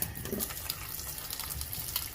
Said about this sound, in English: we're going to start off by adding some water